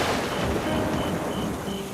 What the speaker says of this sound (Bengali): খুব জোরে বিদ্যুৎ চমকালো।